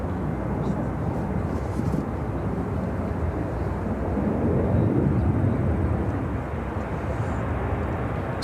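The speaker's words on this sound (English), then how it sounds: "944 taking off to Bozeman on the 737-800" A Boeing 737-800 takes off from Chicago O'Hare bound for Bozeman, its jet engines a continuous, heavy rumble that swells slightly midway and stays loud throughout.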